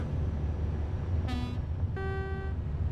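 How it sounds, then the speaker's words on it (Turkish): A Renault Premium truck's standard horn in Euro Truck Simulator 2 gives two short, loud tonal honks over a steady engine rumble. "Bu da normal kornası."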